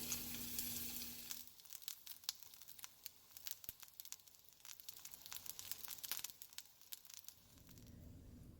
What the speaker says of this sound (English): my jalapeno, garlic, onion, and tomatillo is sauteed